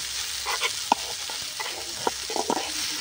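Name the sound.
potato filling with spices being stirred in pan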